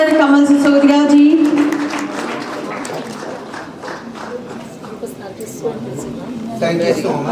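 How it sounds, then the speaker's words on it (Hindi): An audience at an award ceremony applauds loudly after a guest is introduced. The dense clapping follows a voice at the start and continues strongly to the end. "आप सबकी जोरदार तालियों के बीच कमांडर कमल सिसोदिया जी।"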